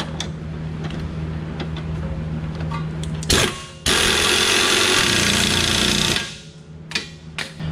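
An air-powered tool during a lift kit install on a 2003-2011 Honda Element, firing in a loud, steady burst of about three seconds after a brief blip. Quieter workshop clatter comes before and after.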